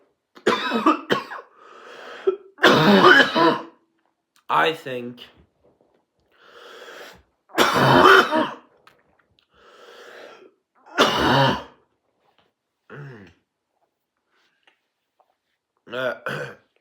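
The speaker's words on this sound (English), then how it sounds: "sorry for the cough" Several harsh coughs burst out at intervals, separated by stretches of quiet and a few brief spoken words.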